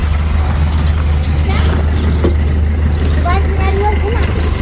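A car about to set off on an evening drive to a wedding, its engine giving a steady low rumble close by throughout, with people talking over it.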